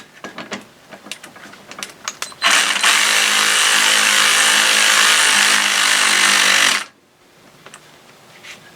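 A power tool drives the rear bushing bolt on a Polaris ATV, running in one continuous loud whirring burst of about four seconds after a few clanks of handling, then stopping abruptly.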